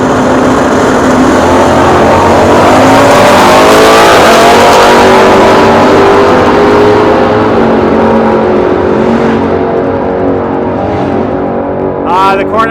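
A Plymouth 383 Cuda muscle car roars loudly through a hard drag strip launch, its engine note climbing through the gears and then fading as it pulls away. Crowd noise comes in near the end.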